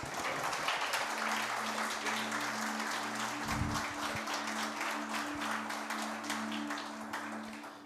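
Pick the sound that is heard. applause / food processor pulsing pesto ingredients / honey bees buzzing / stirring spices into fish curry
applause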